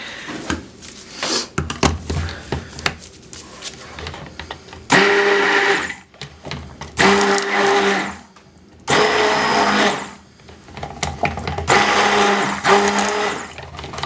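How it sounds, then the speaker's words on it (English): A stick blender whirs through cold process soap batter in three loud bursts of a couple of seconds each, with quieter clattering and handling noises in the gaps between. "we'll have to give that one a little bit of a blend with the stick blender"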